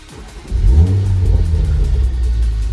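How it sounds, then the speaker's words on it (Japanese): A Toyota Supra RZ manual sports car engine cranks and fires up, surging into a loud rev before settling into a rough, throaty idle. "このエンジン始動音たまらないですね"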